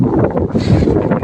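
Strong wind gusts buffet an outdoor microphone in a loud, continuous rumbling roar that swells briefly, with no voices heard.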